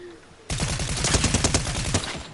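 Rapid video game gunfire breaks out suddenly after a quiet moment, a dense, close burst of repeated shots that continues to the end.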